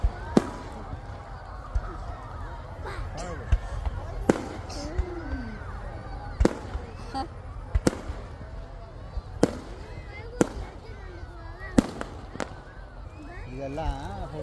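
Festival firecrackers burst at irregular intervals, sharp cracks scattered over a noisy outdoor background with people talking throughout.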